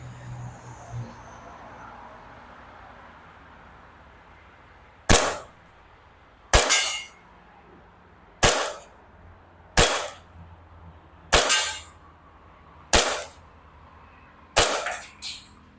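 An Army R614-1 TTI Pit Viper gas BB pistol fires seven sharp, evenly spaced shots at targets 15 metres away, each a crisp close pop with a short tail, over a quiet background.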